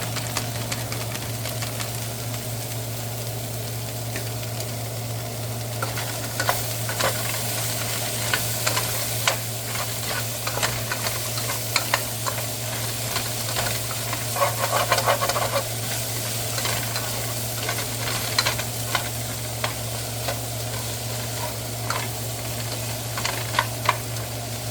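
An uncovered pot of macaroni, cheese, potato and mixed vegetables simmers steadily, a continuous low sizzle with occasional scrapes and clicks of stirring, close and moderately loud with no talk.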